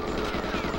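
Dense burst of rapid video game gunfire filling a brief moment, loud and close with no gaps between shots.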